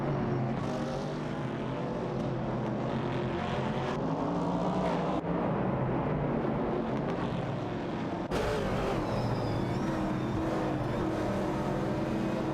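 Engines of racing cars in a video game, an AMC Javelin 70 and a Ford Mustang Boss, drone loudly and continuously with a dense roar and shifting pitch, no talk.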